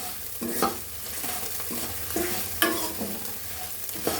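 Green chillies and coarse rock salt fry in a pan for curry leaf powder, with a steady sizzle and rhythmic scraping stirs. The sound is close and fairly loud, with no voices.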